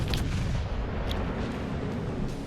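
Heavy naval gunfire from the HMS Lion, a Tier 7 premium battleship, in World of Warships Legends: loud, continuous booming rumble with dense low-end blasts and brief sharp cracks near the start.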